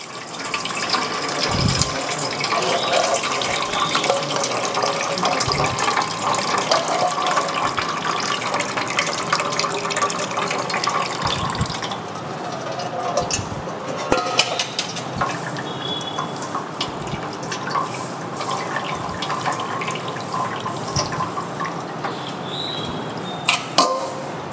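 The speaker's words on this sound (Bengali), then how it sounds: "এভাবে এটা ছেঁটে জল দেওয়া হলো।" Water pours steadily from a tap over soaked flattened rice (chira) in a strainer, a loud continuous splashing rush that lasts throughout with occasional clatter of the vessel.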